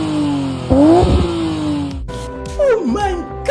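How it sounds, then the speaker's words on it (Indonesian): A car fitted with an aftermarket racing exhaust in place of the stock one revs hard nearby, with loud throttle bursts rising and falling over a steady idle. "Banyak yang mengganti knalpot standar dengan knalpot racing karena berharap performanya meningkat."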